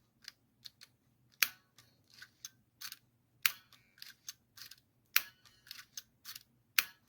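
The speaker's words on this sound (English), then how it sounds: "we've got a firing shutter" Shutter of a Goerz Minicord TLR camera being cocked and fired over and over, a quick series of crisp mechanical clicks and snaps heard up close, with no one speaking.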